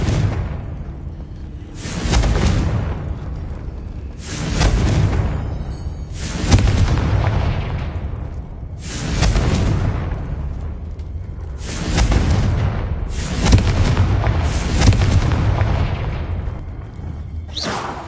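Confringo fire spells burst in the Hogwarts Legacy video game, with six or seven loud booming blasts spaced about two seconds apart, each trailing off into a rumble.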